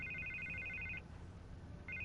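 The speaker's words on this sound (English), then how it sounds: "I can't get the phone to stop ringing" A telephone rings in the Batman Telltale video game, giving a quiet electronic trill that stops briefly and then starts again.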